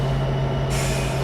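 Locomotive air brake releasing on a BNSF SD75 in Train Simulator 2016: a steady low diesel hum carries on, then a broad airy hiss swells in about halfway through and holds to the end.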